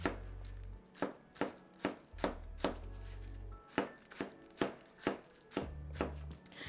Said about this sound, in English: using the full length of my knife, nicely and thinly sliced up